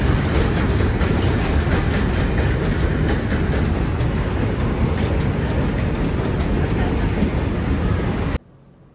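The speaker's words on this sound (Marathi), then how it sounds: "आता पळसदरी स्टेशनवर पोहोचून ट्रेन पकडायची" Train noise at Palasdari railway station: a loud, continuous rumble with a steady broadband roar for about eight seconds, then it cuts to near silence.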